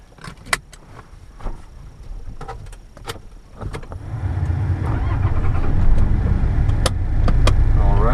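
Scattered clicks and clunks give way to a Toyota Land Cruiser LJ78 turbo diesel engine starting up, then a steady, louder motor hum as it pulls away and drives.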